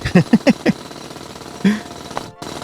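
A mining drill in the video game Chipmatic gives a rapid series of loud, hard mechanical pulses, about four quick bursts, then a pause and one more longer grinding burst before cutting out.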